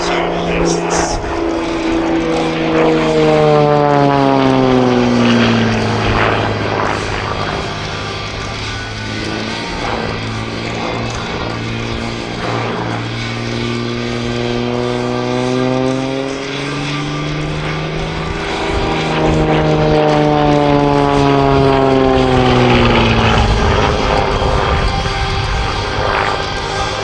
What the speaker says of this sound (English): The Xtreme Air XA41, also known as the Sbach 300, is a highly advanced German single-seat aerobatic aircraft